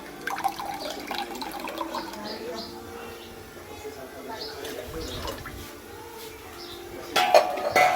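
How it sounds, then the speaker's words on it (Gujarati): Water being poured into a cooking pot to make Maggi noodles in a home kitchen, a steady splashing pour with light clinks of the pot, heard under a voice talking throughout. "જો આપણે રસાવાળી રાખવી હોય તો આપણે પાણી વધારે નાખવાનું"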